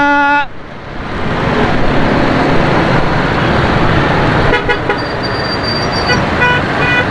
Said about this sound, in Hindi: यहाँ नुमाइश पर भी बहुत ज्यादा ट्रैफिक जाम है भैया